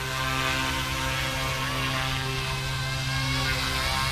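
Blade Infusion 180 RC helicopter hovering, its rotor and motor giving a steady, close, continuous whine with a faint buzzing tone underneath, unchanging in pitch throughout.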